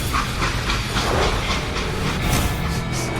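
A freight train in the Western shooter Call of Juarez Gunslinger rumbles past with a steady, loud hiss and rolling clatter. It sounds alone, with no talk over it.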